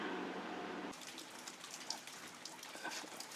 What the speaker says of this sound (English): it's currently raining outside, and we might not get anything